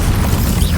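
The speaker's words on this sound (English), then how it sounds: "Explosion." An explosion spell going off in the Hogwarts Legacy video game, heard as a loud, dense low rumbling boom that sustains through the moment without any speech.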